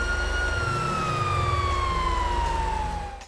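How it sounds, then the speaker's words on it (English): Police siren in the video game GTA 5, a loud continuous wailing tone that rises and slowly falls over an engine hum, heard close and alone, fading slightly at the end. "a siren will not cause you issue when breaking into Michael's house on Complications."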